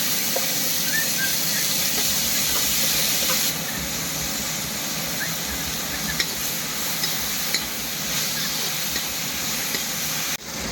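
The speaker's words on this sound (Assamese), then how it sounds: "এটা টেঙামাৰা শাকটো ভাজি লওঁ আগতে" Tengamara (roselle) leaves fry in hot oil, giving a loud, steady hissing sizzle close by, broken by an occasional soft clink of stirring.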